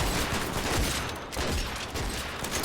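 Gunfire in the Fortnite video game rattles in a dense, loud burst of overlapping shots that fills the moment with little pause.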